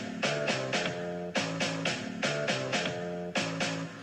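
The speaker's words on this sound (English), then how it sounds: "I'm going to add a snare hit to match each of the bass notes" A programmed electronic beat: bass drum on the downbeats, a synth bass line, and snare hits lined up with each bass note, repeating in steady, loud, even bars with no voices.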